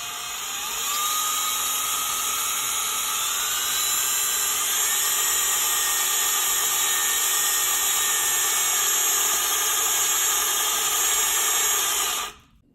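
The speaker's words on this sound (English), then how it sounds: "we use an electric power drill in order to quickly and easily wrap coils of 26 AWG wire around a solenoid casing" An electric power drill spins steadily to wind 26 AWG wire onto a solenoid casing with a 3/8 inch inner diameter, giving a continuous high whine that holds for about twelve seconds at an even, close level before cutting off abruptly.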